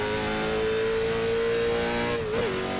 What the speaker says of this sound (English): Definitely one of my favorite sounding cars on iRacing beside the Gen 4.